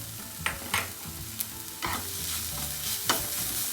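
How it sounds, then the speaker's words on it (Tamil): Stuffed mushrooms and melting cheese are stirred in a hot pan, with several distinct scraping strokes over a steady low sizzle. Close and moderately quiet, with no talking. "போட்டு நல்லா மிக்ஸ் பண்ணி விட்டுருங்க"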